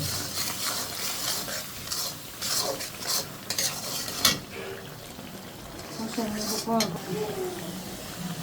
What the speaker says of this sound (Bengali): মাংসের মশলা স্বাদ মতো লবণ দিয়ে মশলাটা ভালো করে কষাই নিব